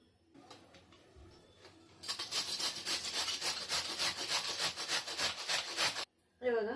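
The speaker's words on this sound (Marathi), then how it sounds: "मी इथे किसायला आहे ना खोबऱ्याची किसणी घेतलेली आहे" Cabbage is grated on a coconut grater, producing rapid, rhythmic scraping strokes that start abruptly after a quiet lead-in, run steadily and close-up, then stop briefly before one last burst.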